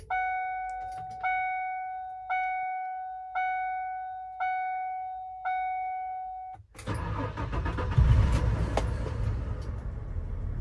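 A Ford F-150 pickup truck sounds six evenly spaced warning chimes, then the engine cranks, catches and settles into a loud, rough idle close by.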